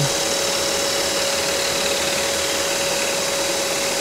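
A power saw cutting wood for a carved spoon whines at a steady pitch, loud and close, running continuously without pauses.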